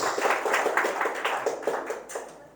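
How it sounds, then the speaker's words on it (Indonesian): A church congregation claps together in worship, a quick run of rapid, fairly close handclaps rippling for a couple of seconds before thinning out. "Tepuk tangan sekali buat Tuhan."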